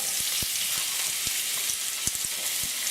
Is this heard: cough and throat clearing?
no